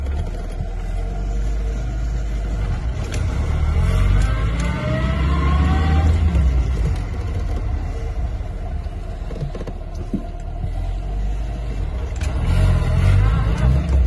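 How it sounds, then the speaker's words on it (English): A 1966 MG Midget sports car engine drones steadily at close range, rising and falling as it revs through gears while driving along. "We're in a little MG Midget. Let's go and have some fun."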